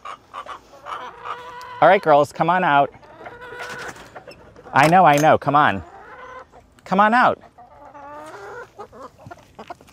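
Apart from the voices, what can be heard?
chickens clucking in a coop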